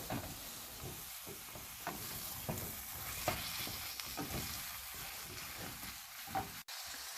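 Chopped vegetables and soya chunks for a vegetable biryani are stirred in a hot pan, a steady sizzle and hiss broken by scraping strokes of the spoon, close and continuous.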